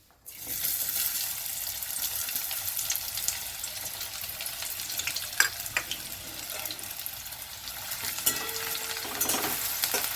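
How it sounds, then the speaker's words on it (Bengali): A generous batch of chopped onions drops into hot oil and breaks into a loud, sustained crackling sizzle, close up, with occasional pops and spoon scrapes throughout. "তেলটা এবারে গরম হয়ে গেছে আমি বেশ বেশি করে পেঁয়াজ কুচিটা দেব"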